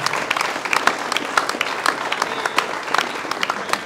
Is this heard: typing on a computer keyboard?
no